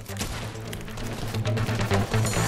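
Desert Eagle firing in Fortnite, a run of sharp gunshots in quick succession amid other game sounds and a low musical bed, moderately loud and close.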